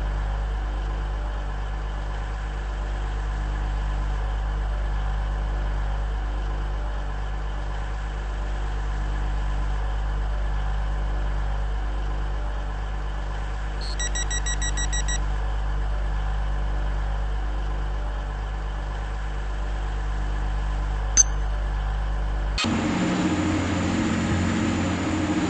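Steady low rumbling drone of a train running on an airport link service in the Roblox game Stepford County Railway. It stays even throughout, with a faint high chime partway in and a tonal shift near the end.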